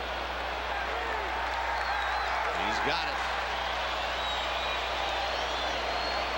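A baseball stadium crowd at a Mariners at Giants game reacts with a steady roar to a high fly ball to left field, with a commentator talking over it.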